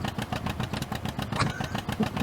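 An old John Deere tractor engine idles with a steady, lumpy chugging pulse, moderately close but fairly quiet, with faint knocks over the rhythm.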